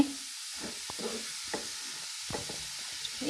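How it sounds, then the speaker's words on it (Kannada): Grated carrots fry in ghee for carrot halwa, giving a soft, steady sizzle with faint hiss and occasional stirring scrapes, quiet and close with no talk. "ನೋಡಿ ತುಪ್ಪದಲ್ಲಿ ಫ್ರೈ ಮಾಡುವ ಚೆನ್ನಾಗಿ ಹೀಗೆ ಫ್ರೈ ಇದು ತುಪ್ಪದಲ್ಲಿ"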